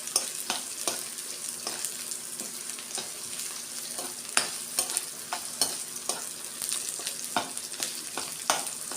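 Onion and garlic sautéing in a hot pan, a bright steady sizzle broken by frequent sharp spatula scrapes and taps in an irregular rhythm, close and fairly loud.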